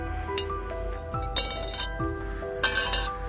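Piece of aerogel struck repeatedly, giving several bright, ringing metallic clinks like an empty can hitting steel, spaced irregularly over a faint background, with no talking.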